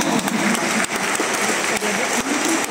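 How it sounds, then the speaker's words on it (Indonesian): Applause from a Catholic charismatic congregation at a parish celebration, dense and loud with occasional sharp claps punctuating the wash, close by and sustained. "Tepuk tangan"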